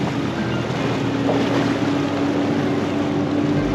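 Outboard engine of a bass fishing tournament boat roars steadily at launch, loud and continuous with wind and water rush blended in, no pauses.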